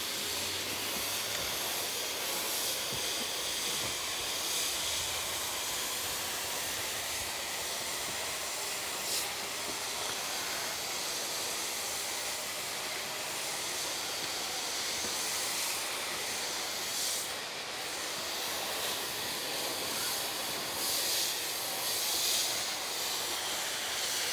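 A garden hose sprays water to rinse a deck during staining and plaster repair work, making a steady, close, unbroken hiss that runs the whole time with no talking.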